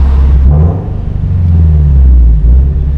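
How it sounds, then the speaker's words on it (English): A deep, throaty engine rumble from a Toyota 86 with an aftermarket DC Sports cat-back exhaust swells briefly in a short rev, then drops back to a loud idle, close up. "And we'll do a little rev right here."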